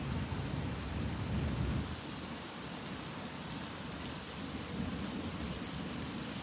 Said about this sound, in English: Still raining a little bit,